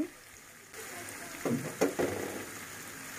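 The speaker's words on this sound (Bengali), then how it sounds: "এখন ভালো করে কষিয়ে নিব" Vegetables with spices sautéing in a pan for vegetable khichuri, a soft steady sizzle with a few brief stirring scrapes and clatters in the middle, close and moderately quiet.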